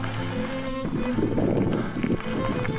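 Horses walk along a mountain road on Biokovo, their hooves clip-clopping in an uneven rhythm close by, over a steady droning hum.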